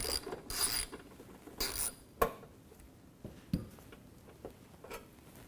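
A screw is worked loose and removed during disassembly of an Electrolux clothes dryer, giving a quiet run of sharp metallic clicks, ratcheting ticks and small clatters at close range.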